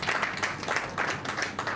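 Audience clapping at a digital bank launch event, a steady dense patter of many hands filling the room without pause.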